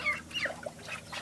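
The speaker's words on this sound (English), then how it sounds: "Oh, there's our duckies." Ducks quack repeatedly outdoors near a coop and a small river, several nasal calls overlapping in quick succession at moderate distance over steady background noise.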